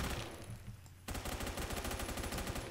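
Rapid automatic gunfire from the strobe light gun in the Phantom Forces video game bursts out loud and close in a fast, even rattle that fills the second half, preceded by a softer, denser stretch of shooting.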